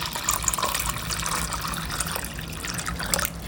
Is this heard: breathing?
no